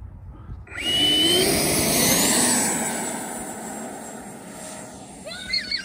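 Freewing Yak RC model airplane flying past during a speed test flight: a loud, steady whine with rising and falling pitch as it passes nearby, then fading into the distance.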